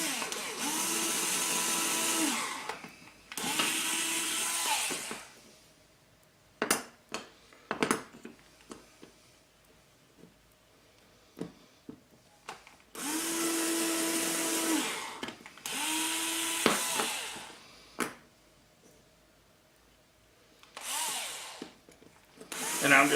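Power drill driving into quadcopter frame parts for a 380 quad build: several loud whirring bursts of a few seconds each, separated by quieter clicks and handling knocks.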